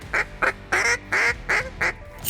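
Hen mallard duck call blown by a caller, giving a run of six loud, nasal quacks in a quick descending cadence, close and alone.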